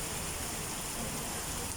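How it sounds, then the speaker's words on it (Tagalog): Heavy rain pours steadily outside a roadside eatery, a dense unbroken hiss of drops on surfaces, fairly distant and even throughout with no break. "ayan ito po yung ano ng ulan oh malakas yung ulan dito guys"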